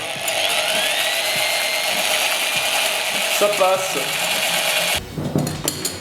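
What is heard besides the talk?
power drill whisking eggs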